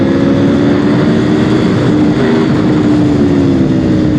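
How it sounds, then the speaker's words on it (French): Loud, steady engine drone of a 2019 Aprilia RSV4 1100 Factory sport motorcycle, with a sustained low hum and tonal whine, constant throughout and close, with no pauses. "comme vous pouvez l'entendre, le moteur est bien présent"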